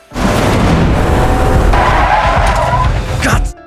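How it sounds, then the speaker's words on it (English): Pickup truck accelerating hard and skidding across the road, a loud, close roar of engine and tire scrub that holds for about three seconds before cutting off abruptly. "Riley suddenly accelerated to overtake and block the road"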